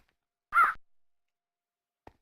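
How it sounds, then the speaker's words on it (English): A forest raven in a video game gives a single loud, harsh caw against silence, followed by a faint short call a moment later. "forest raven"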